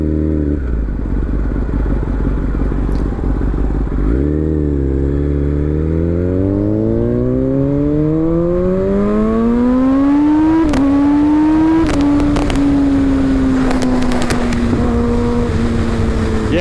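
A Kawasaki ZX-10R sport motorcycle with an aftermarket exhaust revs up steadily with a rising, raspy exhaust roar, then holds loud and close with sharp pops and crackles.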